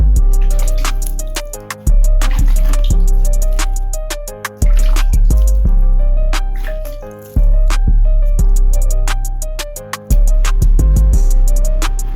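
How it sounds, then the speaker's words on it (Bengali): Water is poured over a newly planted plant, a loud close stream splashing and trickling into soil in several long pours broken by short pauses. "উপর থেকে একটুখানি জল দিয়ে দেব।"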